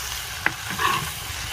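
A ladle stirring rice being sautéed in a pot in a home kitchen, a single sharp scrape followed by a soft sizzling swirl, faint and close, with no talking.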